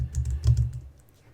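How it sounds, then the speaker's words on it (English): Rapid typing on a computer keyboard, a short burst of close, crisp key clicks that tapers off toward the end, with no voices. "Start typing that in"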